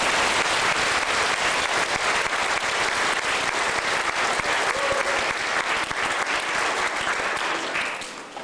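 A dense, sustained round of applause from an indoor audience rolls on steadily at full strength, then begins to fade near the end.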